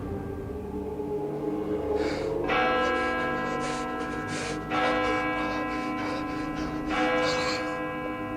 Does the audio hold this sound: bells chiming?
yes